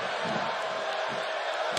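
A Brooklyn arena crowd in WWE 2K18 keeps up a steady, dense roar of cheering, an unbroken wash of noise throughout with a commentator's voice faintly under it.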